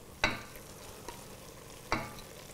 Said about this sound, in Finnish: Ja sitten laitetaan nämä lihapullat